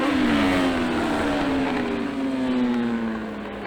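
Kawasaki and BMW superbikes, inline-four and V4 machines, scream past at a race meeting, a loud high-revving whine that falls in pitch as they pass and then fades slightly.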